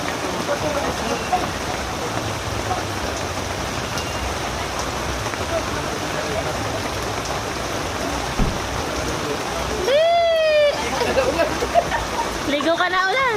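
Heavy rain pours steadily and loudly onto surfaces as a dense, continuous wash of noise, with people talking briefly in the last few seconds.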